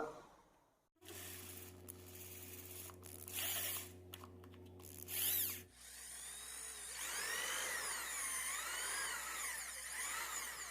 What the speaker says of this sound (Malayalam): ഇതിന്റെ രണ്ട് സൈഡിലെ ഡ്രില്ലിംഗ് മെഷീൻ ഉപയോഗിച്ച് രണ്ട് ഹോൾ ഇട്ട് കൊടുക്കുക